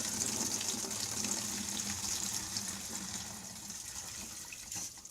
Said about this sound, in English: Then you just go ahead and pour that down the milk jug throat.